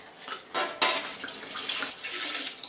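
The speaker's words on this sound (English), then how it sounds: "I'm going to put the whole entire 4 gallons in here." Four gallons of liquid poured into a homebrew fermenter container: a steady, splashing, gurgling flow that swells after a short start and runs on continuously at moderate loudness.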